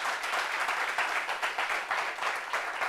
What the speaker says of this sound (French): on applaudit pour lui s'il vous plaît